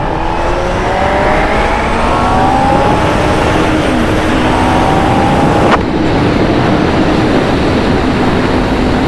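A Honda CBF600 motorcycle on a road ride, its engine droning loud and steady with wind rush, rising and falling in pitch as it accelerates and shifts.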